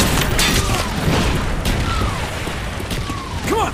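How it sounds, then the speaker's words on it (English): Mortar shells and battle noise in Call of Duty Black Ops: a continuous rumbling roar of explosions and distant gunfire, dense and moderately loud throughout, with brief radio-style callouts mixed in. "Enemy mortars incoming."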